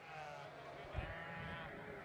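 Shropshire ewe lambs bleat at a sheep show, faint and somewhat distant against the murmur of a crowd, with one brief louder bleat standing out near the middle.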